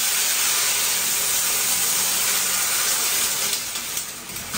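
Garlic tempering sizzles in hot oil, a loud, continuous, close hiss that holds steady and then eases slightly toward the end.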